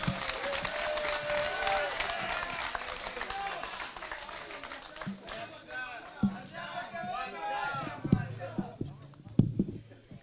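A crowd at a DCP political rally in Kenya applauds to welcome the Magarini candidate; dense clapping and crowd noise fill the opening seconds, then thin into scattered claps and voices with sharper bursts near the end.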